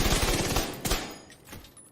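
Rapid automatic gunfire from the shooter game Tom Clancy's The Division 2, a fast burst of close, loud shots in the first second, followed by a few sharper single shots and reverberant tails, with no talking.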